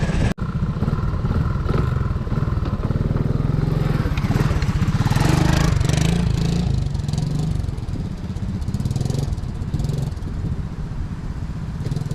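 Honda ATC185S Grizzly three-wheeler engine revving hard and steadily for about twelve seconds during wheelies, loud and close, with a continuous buzzing drone that rises and falls slightly.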